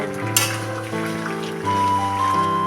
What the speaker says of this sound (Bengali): এখন মাছটা আমি দিয়ে ফুটিয়ে নেব